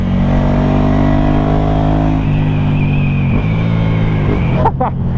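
Ducati 797 twin-cylinder motorcycle engine holding a steady loud drone, pitch sliding down as it decelerates, recorded close with wind rush and a brief blip near the end.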